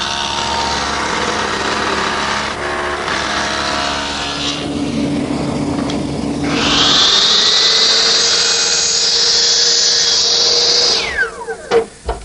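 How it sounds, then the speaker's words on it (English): A table saw fitted with a stacked dado head, set for a 3/4-inch width, runs loud and steady, then bites into maple with a rising high-pitched whine as the groove is cut, before spinning down with a few closing clunks. "with the stacked dado head cutter set up in my table saw for a 3/4 inch width, I'm going to run a groove down the center of the piece of maple"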